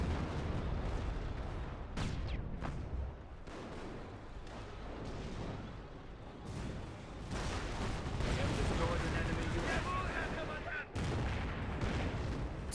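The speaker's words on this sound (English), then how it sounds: "Landmine got hit." Battle in Company of Heroes with a landmine blast among repeated booming explosions and gunfire, several sharp hits spread through a continuous rumble of combat, with a voice talking over it.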